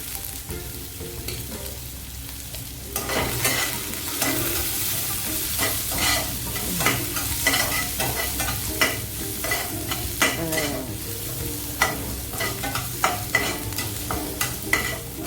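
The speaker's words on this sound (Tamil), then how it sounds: "வதங்கத்துக்கு கொஞ்சமாக உப்பு, இதிலே உப்பு போட்டுருக்கோம். வெங்காயம் வதங்கிறதுக்கு மட்டும் உப்பு." Onions sautéing with a little salt in a pan for snake gourd poriyal, a steady low sizzle broken by repeated sharp scraping clicks of a spoon stirring the pan, close and loud, with no talking.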